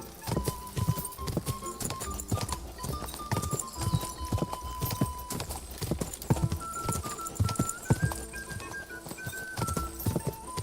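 Steady rhythmic clip-clop of horse hooves trotting close by in the video game Kingdom Come: Deliverance II, with a soft tonal background hum throughout.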